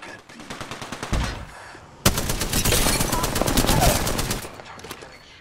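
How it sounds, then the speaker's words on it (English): Rapid automatic gunfire in the Apex Legends video game, a short burst followed by a longer, louder continuous stream of close shots lasting a few seconds. "Target getting shot."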